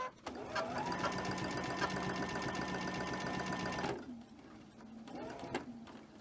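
A sewing machine chain stitches quilt blocks: a steady, fast mechanical hum runs for about four seconds, stops, then gives a brief second run, with soft handling sounds in between.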